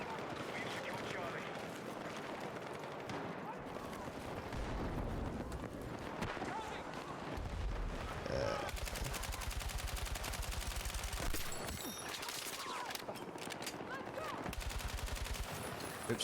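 Battlefield 6 gunfire aimed at breakable objects, with sustained bursts and rapid automatic shots that are loud and continuous and run under game noise and some talk.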